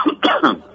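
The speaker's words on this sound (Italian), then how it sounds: "faccio un piccolino colpo di tosse." A small cough, three quick rough bursts close to the microphone in a quiet room, the last one trailing off.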